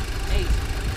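A Volkswagen Golf 2.0 TSI direct-injection turbo four-cylinder engine idles with a steady, close low rumble and faint knocking pulses throughout.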